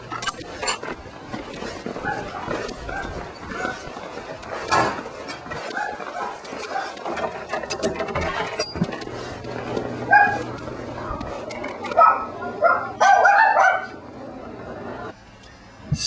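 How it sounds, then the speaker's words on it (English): Small dogs barking and yipping indoors while a locksmith rekeys locks, with repeated sharp barks and whimpers at moderate distance mixed with mechanical clicks, continuing through the whole stretch. "Those little dogs are barking, by the way."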